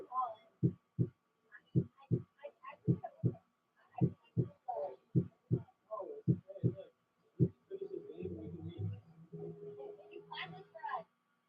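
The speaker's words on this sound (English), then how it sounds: "Wasn't the heartbeat sound effect?" A steady heartbeat sound effect thumps in regular low pulses, close and fairly loud, before giving way to a murmuring hum and higher chirps at the end.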